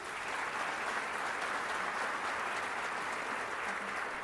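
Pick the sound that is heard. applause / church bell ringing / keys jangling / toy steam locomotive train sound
applause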